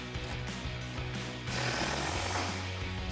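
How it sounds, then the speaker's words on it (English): Impact wrench with a 21mm socket tightening a shock bolt during a lift kit install on a Silverado 1500, a steady loud rattling hammer that grows heavier halfway through, with no talk. "We're gonna grab our impact and 21mm socket."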